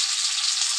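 Onions frying in hot oil with red chilli and bay leaf give off a brief, even, hissing sizzle, close and steady.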